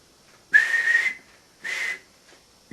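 Two bright, steady whistle blasts from a steam engine, a long one followed by a shorter one, sounding alone against near silence, with a brief clipped start of a third at the very end.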